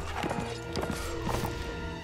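Horse hooves clatter at a gallop in the Mount and Blade: With Fire and Sword video game, a quick steady clip-clop rhythm with a faint whinny, loud and close under game ambience.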